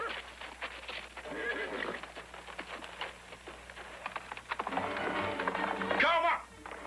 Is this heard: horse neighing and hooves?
yes